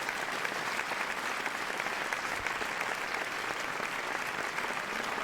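Loud, dense applause from a large crowd, steady and continuous without pause, many hands clapping at once.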